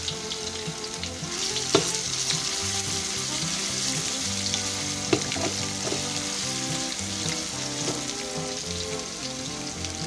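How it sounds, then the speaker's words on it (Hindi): Garlic ginger paste fries in hot oil with golden-browned onions for Kabuli Afghani beef pulao. The pan gives a steady close sizzle with occasional stirring clinks and scrapes. "इसे भी ऑयल में अच्छी तरह फ्राई करेंगे।"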